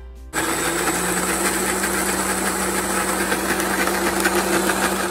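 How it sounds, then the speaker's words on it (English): A loud, steady motorized whirring starts abruptly and runs continuously, a dense buzzing drone like a blender at full speed. "Okay, let's send it through the blender."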